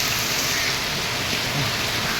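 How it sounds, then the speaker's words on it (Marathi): Heavy rain pours down in a dense, continuous roar, loud and close, with no pauses. "आमच्याकडे सकाळी पावसाला बघा पाणी बघा किती येतं"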